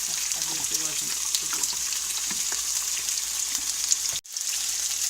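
Crepe batter sizzles steadily in a hot pan, a continuous bright frying hiss with small crackles, close and fairly loud, ending in a brief dropout near the end.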